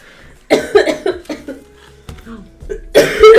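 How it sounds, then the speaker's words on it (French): A person coughs in several quick, harsh bursts at close range, with a short pause of softer breathy sounds before a final loud cough. "Vous me faites tousser de rire."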